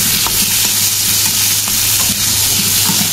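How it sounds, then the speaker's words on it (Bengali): Pointed gourd, green papaya and coriander fry in a pan with lightly fried fish and onion, producing a steady, loud, close sizzle with faint stirring scrapes throughout. "সবজিটা ভেজে নিব"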